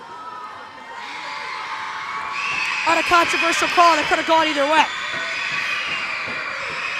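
A crowd at a middle school boys basketball game between Fairfield Woods and Tomlinson grows loud in a gym, shouting and cheering in a swelling burst beneath steady commentator talk.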